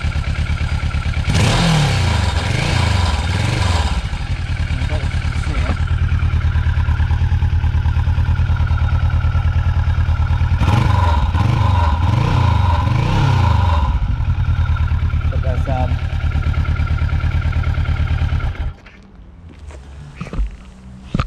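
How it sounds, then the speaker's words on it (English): A motorcycle with a faulty exhaust idles loudly and close, with a metallic baffle rattle. The revs are blipped twice in a rhythmic rise and fall, then the engine cuts to near quiet at the end. "A little bit of a metallic-y rattle."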